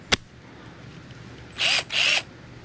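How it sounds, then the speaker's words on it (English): A cordless power drill bores a shallow recess into a flat-screen TV during demolition: a sharp click, then two short loud bursts of whining drilling close to the mic, with no talking. "I'm not going to drill all the way through. I'm just going to make a little recess in there"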